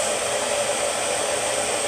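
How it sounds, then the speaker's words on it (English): A blow dryer aimed at a glueless wig gives a steady, close, loud whir with no break and no voices. "from putting the blow dryer on it and doing all that"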